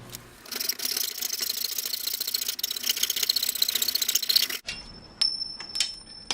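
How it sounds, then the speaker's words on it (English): A hacksaw cuts through a brass ring in rapid, rasping strokes that run continuously for several seconds, then break off into a few sharp, scattered metallic scrapes. "I'll do this by using the hacksaw."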